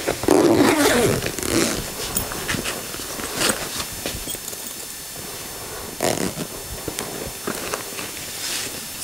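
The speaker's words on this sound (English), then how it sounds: "you want to zip up your bag" A zipper is pulled shut on a western saddle bag in several short, rasping strokes with pauses between them, close and fairly loud, with light handling noise.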